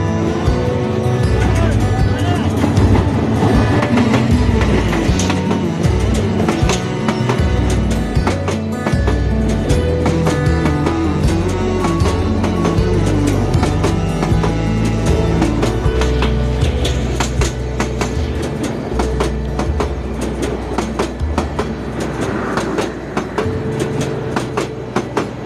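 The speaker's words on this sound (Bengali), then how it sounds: "ট্রেন আসবে এখন কিশোরগঞ্জ থেকে, কিশোরগঞ্জ এক্সপ্রেস" Kishoreganj Express rushing past close beside the tracks, a loud, sustained roar of wheels and carriages with dense clickety-clack that holds steady for the whole pass.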